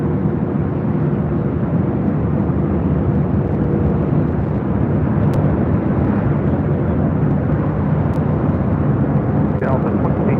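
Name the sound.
Delta Airlines Boeing 737-800 arriving at LAX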